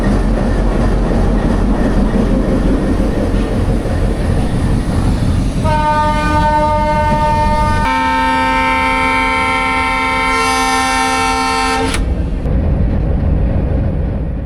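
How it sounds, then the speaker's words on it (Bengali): Bangladesh Railway locomotive 6522 hauling the Kanchan Commuter intercity broad-gauge train rumbles loudly and continuously, heard from the engine cab, with a long, loud horn blast sounding in the middle and then cutting off. "আজকে আমাদের 6522 এই লোকোমোটিভ নিয়ে আমরা যাত্রা করব।"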